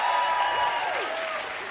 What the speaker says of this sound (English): Clap, yes.